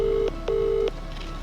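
A telephone call rings back in two long, steady electronic tones separated by a short gap, clear and even, with a faint start of a third at the end and no talk.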